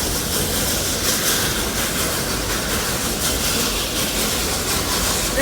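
Roaring Camp mountain railroad train climbing toward a mountaintop, a loud continuous rumbling and rattling of rolling cars heard from on board.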